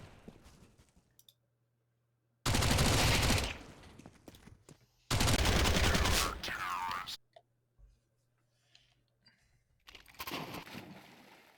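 Pistol fire rattles through an esports video game match, three separate loud bursts of rapid shots, each lasting one to two seconds, broken by near-silence and quiet clicks in between.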